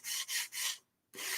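Painted wood edges are sanded by hand to distress them, three quick rasping strokes, then a short pause and a fourth stroke, close and moderately loud, with no talking.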